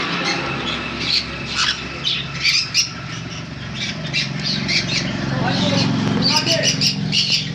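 Cockatiels squawk in a bird shop, a dense chorus of sharp, repeated shrill calls close by and loud, with a voice talking underneath.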